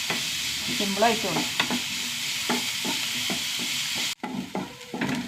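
Sliced onions sautéing in a pan give a steady bright sizzle with repeated stirring scrapes, heard close; a voice speaks briefly over it, and near the end the sizzle abruptly drops away, leaving quieter stirring.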